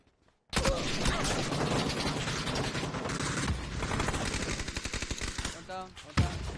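Rapid video game gunfire starts sharply after a brief silence and runs as dense automatic bursts for several seconds, with a few mechanical clacks near the end, loud and close.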